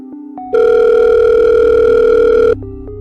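A telephone dial tone plays during a call, a steady, loud continuous tone lasting about two seconds, preceded and followed by quieter beeps and clicks.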